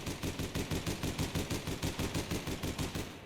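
An automatic rifle in the online shooter APB Reloaded fires one long sustained burst, a rapid, even rhythm of loud, close shots running almost without a break to the end.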